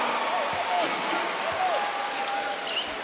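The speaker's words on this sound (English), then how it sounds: "Credit to the Cairns fans, they're still clapping every basket" Basketball crowd at a Cairns Taipans home game in Cairns applauding after a basket, a broad steady wash of clapping with occasional ball bounces and squeaking shoes, while a commentator talks over it.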